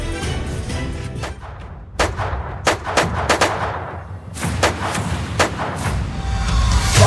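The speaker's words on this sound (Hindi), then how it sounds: "बरेली में एक घर पर ताबड़तोड़ गोलियां चलती हैं" Rapid gunfire aimed at a house in Bareilly, a dense series of loud cracking shots in irregular bursts over a constant rumbling background, with no voices.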